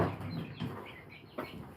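A few chickens cluck softly outdoors in short, close calls with a faint background hiss, and no one speaks.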